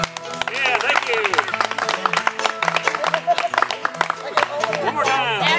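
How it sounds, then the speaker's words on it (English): An audience claps along in steady rhythm to live country-style music at an abilities event, with a singing voice and instruments over the clapping. "Now clap again for him."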